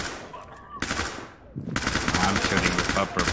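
Rapid automatic gunfire as a whole magazine is emptied in the tactical shooter Ready or Not, with a short burst, a pause, then a loud sustained stream of shots filling the rest.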